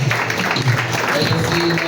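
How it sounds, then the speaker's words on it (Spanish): Congregation in a church service giving a loud round of applause, a dense continuous wash of many hands clapping together, with some voices and a sustained musical tone mixed in beneath. "Y todos le damos un fuerte aplauso"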